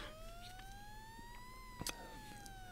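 An ambulance siren wails at a distance, its pitch sweeping up then falling away, faint against background noise, with a brief knock near the end.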